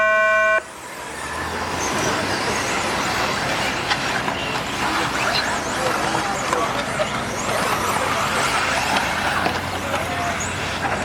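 Starting tone for a four-wheel-drive RC buggy A-main race, a brief steady electronic beep at the very start, then a dense wash of crowd and track noise with buzzing motors continuing throughout.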